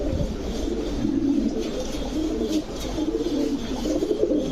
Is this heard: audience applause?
no